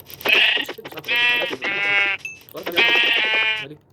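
Sheep in the Minecraft video game bleat in three long, wavering, nasal cries, close and loud, separated by brief gaps.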